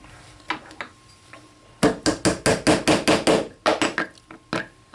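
Repeated sharp metallic taps of a punch and hammer driving the rear frame pin into a Kel-Tec PF-9 pistol, a few scattered knocks followed by a quick run of about a dozen evenly spaced close, loud strikes.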